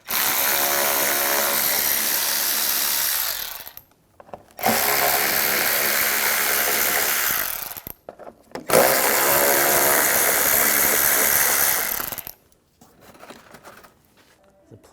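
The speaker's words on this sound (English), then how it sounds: "Underneath, we're going to take these screws out, use the same 8mm socket." Three long bursts of a power tool with an 8mm socket back out screws underneath a 2009-2013 BMW 328i xDrive, each whir loud and close, separated by brief pauses and followed by softer handling noises.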